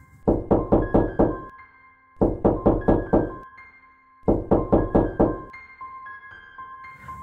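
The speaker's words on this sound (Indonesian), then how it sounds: "Tiba-tiba pintu ruang kerja terketuk keras." Loud, hard knocking on a study room door comes in three separate bursts of five or six rapid blows, with short silences between them and no voices.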